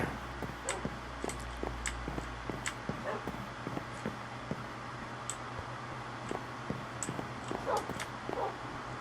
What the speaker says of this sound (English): There's my puppy dogs, my pack. They're all waiting patiently.